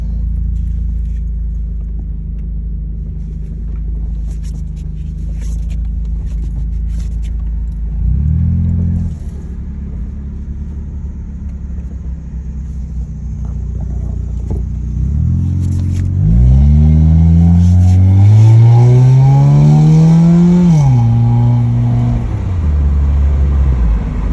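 A Honda car engine idles, then revs up and accelerates hard. The pitch rises and falls through several gear changes, and small rattles sound inside the cabin.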